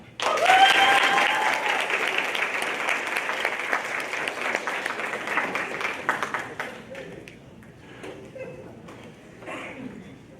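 An audience at a student soapbox speech event breaks into sudden applause after a speaker finishes, full and steady clapping for several seconds that tapers into scattered claps and faint sound.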